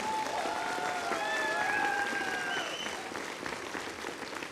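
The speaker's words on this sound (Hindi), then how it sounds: "जोरदार तालियां" Loud, sustained applause from an audience greets two brothers at a business event, a dense wash of clapping that holds steady for several seconds with some whistles cutting through.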